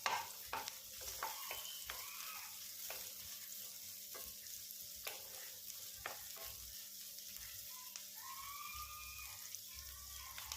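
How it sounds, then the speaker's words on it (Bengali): Chopped onion, one large one, fries in a pan as a quiet, steady sizzle, with occasional stirring scrapes and clinks and a faint tonal whine late on, no voices. "পেঁয়াজ কুচিটাকে আমি 2 মিনিট ভালো করে ভেজে নেব।"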